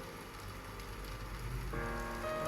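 Steady rain patter with a broad hiss, continuous and fairly close, with a tonal hum entering partway through.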